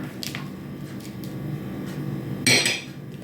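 A spoon stirs butter and powdered sugar in a bowl with soft squishing strokes and a few clinks against the side, then one louder scrape near the end.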